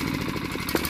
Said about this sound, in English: I'm still running an engine now off the same 20 psi